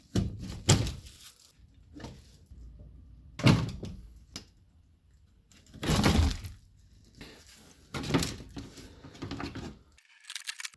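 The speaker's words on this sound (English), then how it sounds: "you'll have to remove these plastic clips" Plastic clips are pried and popped off the undercarriage cover of a Mercedes A200, a handful of sharp knocks and rattling snaps spaced a couple of seconds apart, close up with quiet between.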